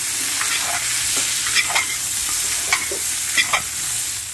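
Meat, onion and potatoes being stirred while they fry in a pan: a steady hissing sizzle with scattered scraping strokes of a utensil, close and clear, with no talking.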